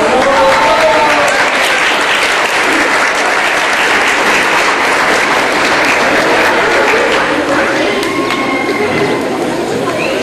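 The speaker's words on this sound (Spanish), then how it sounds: "Un aplauso fuerte, por favor." Loud, strong applause at a school awards announcement, dense continuous clapping from a large crowd that holds steady for about ten seconds, with faint voices underneath.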